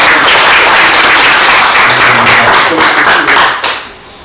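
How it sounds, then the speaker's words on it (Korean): Loud audience applause at a Korean gathering on Confucian culture in Geumsan. Dense, close clapping fills the room at a steady level, then tapers off sharply near the end. "우리 강정원 위원장님과 전현선 사무총장님께 다시 한번 좀 대표로 큰 박수를"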